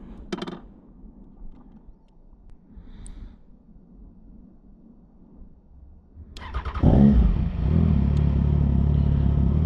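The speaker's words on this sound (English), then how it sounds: "I cannot get over how good this bike sounds now." A motorcycle engine with an aftermarket exhaust fires up after a quiet stretch and then runs loud and close with a steady, rumbling idle.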